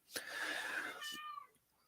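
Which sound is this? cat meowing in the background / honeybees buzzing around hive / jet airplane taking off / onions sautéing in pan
cat meowing in the background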